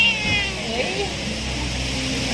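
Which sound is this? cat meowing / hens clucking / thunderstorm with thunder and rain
cat meowing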